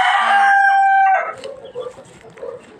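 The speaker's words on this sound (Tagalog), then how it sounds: "Ito yung mga manok guys." A rooster at a family home gives a loud close crow, then quieter clucking from chickens follows in short scattered bursts.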